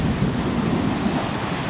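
Small waves of one to two feet breaking on the beach at Seaside Park on a day with a light east wind, a steady close roar of surf mixed with wind buffeting the microphone.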